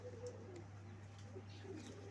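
Pigeons of the Punnu breed coo faintly and softly in the background over a steady low hum, with no talk.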